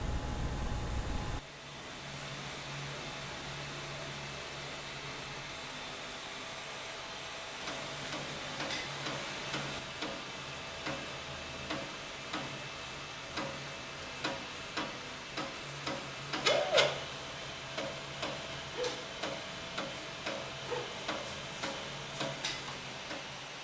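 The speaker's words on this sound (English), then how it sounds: "I'm going to begin printing, starting with the mounting plate and then each of the reel holder spindles" A 3D printer prints a spindle holder mounting plate: faint steady fan hiss, then a quiet run of regular ticking and clicking stepper-motor movements, rather soft and close.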